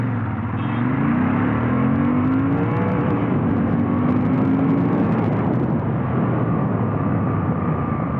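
A 2019 Royal Enfield Interceptor 650 motorcycle pulls away from a standstill, its engine note rising steadily through the gears with brief dips at shifts, loud and continuous under strong wind rush.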